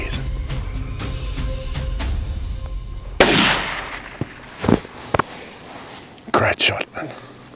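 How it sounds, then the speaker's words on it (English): A single loud rifle shot cracks out at close range during an impala hunt in thorn-tree bush, followed by scattered short knocks and faint background murmur. "Great shot, man."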